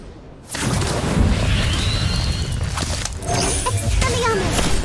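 A fire spell from Harry Potter Magic Awakened erupts with a sustained roaring blast that starts abruptly and holds steady, with game battle effects and a voice calling out over it.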